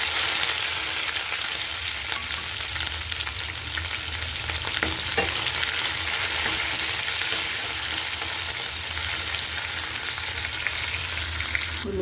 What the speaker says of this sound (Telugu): ఉల్లిపాయలు మగ్గుతున్నాయి కదా